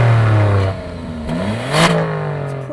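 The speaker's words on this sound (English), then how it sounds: "You get a sports exhaust as standard, and in normal modes it sounds like this." Alfa Romeo Stelvio Quadrifoglio 510 hp with standard sports exhaust in normal mode, revving loud and close: a steady idle rising into a couple of throttle blips whose pitch climbs and falls back, with no talking.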